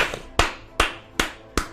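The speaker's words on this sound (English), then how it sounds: "Clap it up, guys." Five sharp, evenly spaced hand claps about 0.4 seconds apart, close and fairly loud, at an informal awards ceremony, with no crowd roar behind them.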